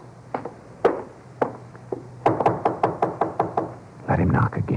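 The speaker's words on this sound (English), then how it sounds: "Let him knock again." Knuckles rap on a door in sharp, close bursts: a few single knocks, then a quick run of about eight raps, ending in rougher thuds.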